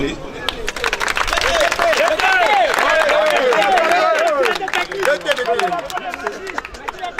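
Applause from an audience at a neighbourhood youth gala, with dense clapping and crowd murmur running steadily throughout while voices call out over it.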